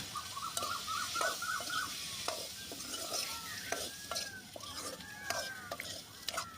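Curry leaves and tomato sauté in oil for a country chicken curry, with a busy sizzle and repeated stirring scrapes up close, plus faint chirps in the background.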